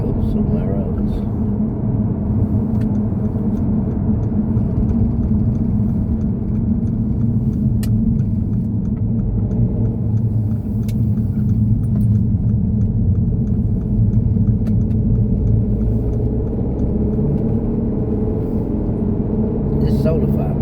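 A car drives along a rural road between Binbrook and Immingham in Lincolnshire, its engine rumble and tyre noise loud and steady throughout, with no break in the sound.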